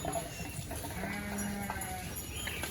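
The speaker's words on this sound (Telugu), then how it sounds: "మధ్యలో ఈ మేకలు అనమాట. మేకలు వచ్చేటప్పటికి భయం కూడా అవుతుంది" A goat gives a single faint bleat in an outdoor home garden, heard briefly amid low background noise.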